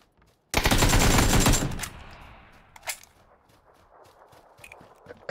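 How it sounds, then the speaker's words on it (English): A burst of SKS rifle fire rings out in the battle royale game PUBG, a rapid loud volley lasting about a second, followed by a metallic ringing tail and a few scattered, fainter single shots. "there's an SKS going off to my north"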